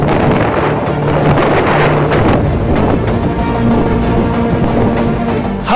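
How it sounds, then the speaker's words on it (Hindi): Cold wind roars steadily over snow at Kedarnath, a dense, unbroken rush buffeting close to the microphone for the whole stretch. "सर्द हवाएं साए साए करती हुई कलेजे को कपा रही हैं"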